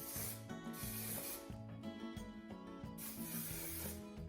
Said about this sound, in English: I'm just going to use some hairspray